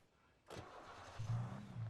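Car engine cranking and catching in the Alan Wake video game, a sudden start followed by a low idle, brief and fairly quiet.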